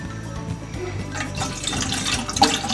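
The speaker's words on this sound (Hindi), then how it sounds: "इसके अंदर मैं थोड़ा सा पानी डालूँगी" Water is poured from a container into a pan on a gas stove for making karak chai, a steady close splashing trickle of moderate loudness heard alone.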